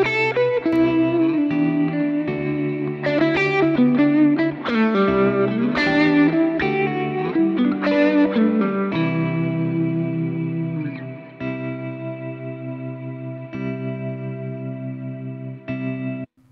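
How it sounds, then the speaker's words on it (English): Electric guitar played through an Axe-FX 3 effects unit with a Dirty Shirley drive and reverb, a run of sustained, shimmering chords and notes that ends in a long ringing decay. "you can hear the quality of the effects that you can get from the AXE-FX"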